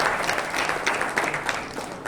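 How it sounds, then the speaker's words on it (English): A crowd at the Southern Command Quiz Competition 2024 final applauds the six quiz finalists with steady, dense clapping that fills the whole stretch without pause. "So can we have a big round of applause for all 6 finalists?"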